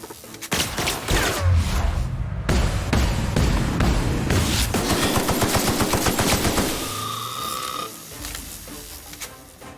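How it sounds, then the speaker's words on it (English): Rapid bursts of automatic gunfire from a sci-fi shooter game, dense loud rattling volleys with sharp impacts that taper off after several seconds into quieter mechanical hums. "They're having trouble shooting me through the grate."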